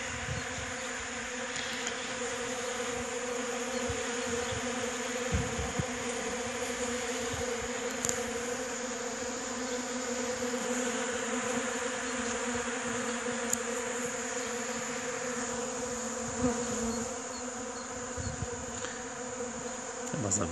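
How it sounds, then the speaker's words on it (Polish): Honeybees busy at the hive entrance in early March, bringing in pollen loads, make a steady, dense buzzing hum that carries on without a break throughout. "Pszczoły gonią."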